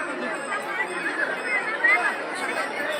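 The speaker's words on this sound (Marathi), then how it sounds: "आणि खूप गर्दी आहे." A large crowd gathers at the 375th Tukaram Maharaj Beej festival in Dehu, near Pune. Many voices blend into a dense, steady babble close by, with no single speaker standing out.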